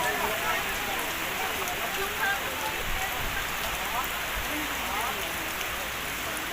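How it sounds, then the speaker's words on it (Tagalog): Heavy rain pours steadily in a cemetery, a dense roaring hiss of drops hitting surfaces nearby, unbroken from start to finish. "lakas ng ulan sa sementeryo, napakalakas."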